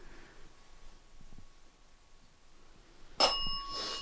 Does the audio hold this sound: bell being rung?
yes